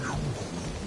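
Rain and rolling thunder in the Guardians of the Galaxy video game, a steady, dense wash of rainfall with a low rumble underneath, loud and continuous with no talking.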